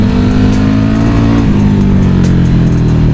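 A 2011 KTM RC8R sport motorcycle engine revs hard under wide-open throttle, a loud, steady, close roar with dense low harmonics that dips briefly halfway through and climbs again.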